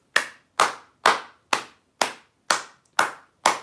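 A single person claps slowly and evenly, eight sharp hand claps spaced about half a second apart, close and isolated with nothing else around them.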